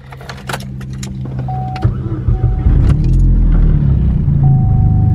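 A Chevrolet Cobalt SS engine cranks and starts up close, after a few clicks and key sounds, and settles into a steady, loud idle rumble.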